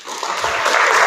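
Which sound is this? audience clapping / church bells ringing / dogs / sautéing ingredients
audience clapping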